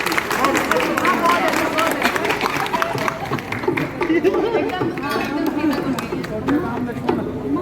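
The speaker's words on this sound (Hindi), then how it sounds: "आज हमारी शिक्षा के लिए मिसल तालियां बजाओ। अच्छा बजाओ।" Group of people clapping at a Ramlila rehearsal, a dense, continuous patter of hand claps mixed with crowd chatter and talking voices throughout.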